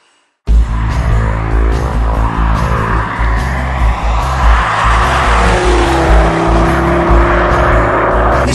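A heavily modified Ford Focus ST with a 2.5 turbo engine runs loud and close, its throaty idle rising into steady revving that holds for several seconds with no talk over it.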